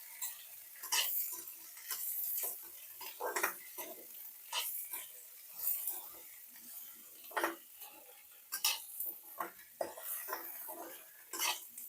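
Okra and onion are stirred in a pan on the stove, giving repeated scraping and clinking strokes of a utensil against the pan at an irregular rhythm, fairly close, with a faint sizzle between strokes.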